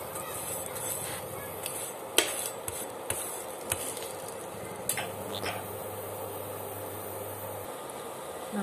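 A cabbage paratha cooks in ghee on a pan, giving a steady sizzle with occasional clinks and taps from a utensil.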